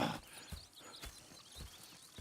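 Horses in the Red Dead Redemption 2 video game walking, with soft, evenly spaced hoof clops heard close by at a quiet level and no voices.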